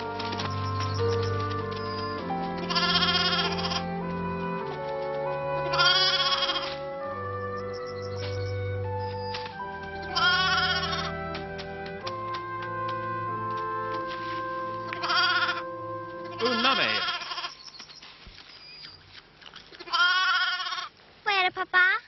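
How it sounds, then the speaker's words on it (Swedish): Young lambs bleat repeatedly on a Swedish village farm in spring, their wavering cries rising in several bursts over soft background music, with people talking in places. "Varje vår får vi en massa lammungar i Bullerbyn."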